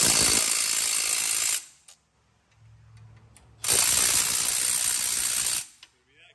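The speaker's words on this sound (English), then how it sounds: "Let's pull this caliper bracket off." Tools working on the brake caliper bracket of a 1998 Ford Expedition produce two long, loud, dense bursts of close mechanical rattling. A short quiet gap separates them, with a faint low hum in between.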